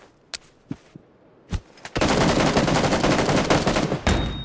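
PUBG gunfire comes from behind: a few sharp isolated shots, then a dense, rapid burst of automatic fire that runs continuously for over two seconds, loud and close.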